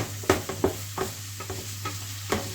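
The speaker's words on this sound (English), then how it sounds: "stir these around in the pan." Carrots and onion are stirred and sautéed in a pan, with a few scraping spoon strokes over a soft, steady sizzle, close up and with no voices.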